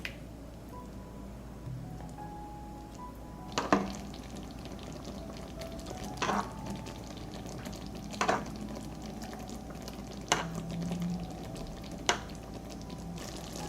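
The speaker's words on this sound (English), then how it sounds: "I return the meat to the sauce and simmer for 5 minutes." Meat simmering in a creamy sauce in a single pan, a soft, steady bubbling sizzle with a few louder pops and stirring knocks spaced every couple of seconds.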